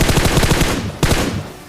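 Rapid automatic gunfire rattles in a fast burst in a mobile battle royale game, then a second sharp shot follows and the sound fades out.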